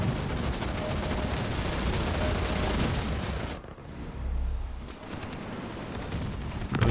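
Sustained gunfire aimed at an anti-vehicle turret in Halo Wars 2, a steady dense crackle of rapid shots that briefly drops out, then returns with a muffled boom and continues unbroken.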